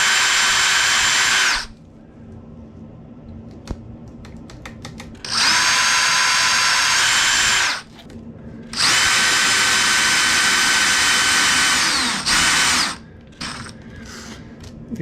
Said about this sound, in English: So I will drill the holes